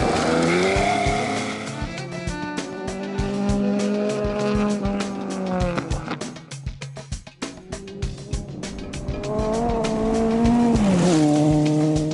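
A classic racing car is driven hard on a track, its engine revving close and loud in rising and falling pitch as it shifts gears, with tire squeal and skidding through the corners.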